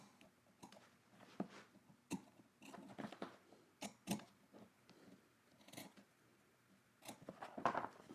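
Scissors trim fabric at the top of a sewing pocket, a series of close crisp snips with rustling cloth between cuts, quiet room with no talking.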